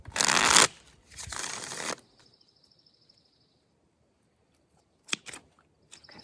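A new deck of tarot cards being shuffled in two loud, crisp riffle bursts close by, followed by quieter card taps and brief handling sounds, with no talking.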